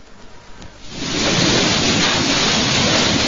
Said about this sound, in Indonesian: Inilah suasana hujan besar yang disertai badai di kota Bandung